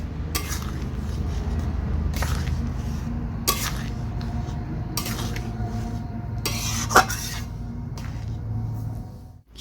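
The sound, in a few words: stirring rajma with garam masala in a pan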